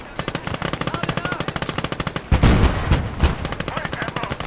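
A machine gun and a 4.7 gun fire rapidly in a World War II video game battle in France, with evenly spaced loud bursts and heavier booming blasts joining midway.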